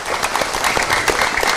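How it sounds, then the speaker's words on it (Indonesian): Lively studio audience applause at a community empowerment programme in Demak, a brief, loud, dense burst of clapping with no talk over it. "Kita beri tepuk tangan yang meriah."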